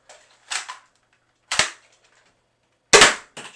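A Deuce Pro fires a handful of sharp, snappy shots, three spaced clearly apart and a quicker fourth right after the last, each a short dry crack close by against silence.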